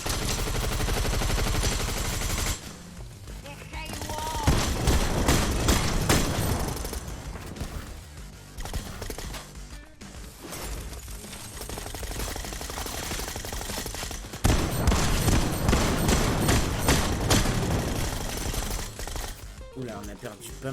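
Gunfire in the video game Fortnite, dense bursts and rapid volleys of shots running through most of the stretch, loud and close, with players talking over it at times.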